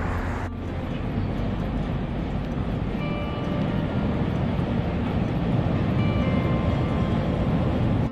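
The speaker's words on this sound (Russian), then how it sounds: "Вот такой поезд едет." An elevated Chicago 'L' train rumbles past overhead in downtown Chicago, a steady deep roar with metallic rattling and faint squeals, continuous and fairly loud throughout.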